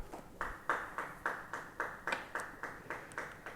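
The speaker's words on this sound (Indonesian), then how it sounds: "Beri tepuk tangan bagi Dia." Steady rhythmic hand clapping from a congregation at a Christmas church service, about a dozen even claps in a row, moderately loud and close, with no one talking over it.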